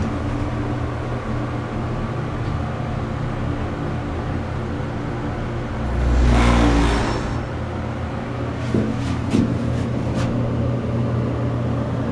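A Dover hydraulic elevator motor at a hospital runs with a steady, low, close-up hum; the car is shaking unusually. A brief louder surge comes midway, then a few faint knocks.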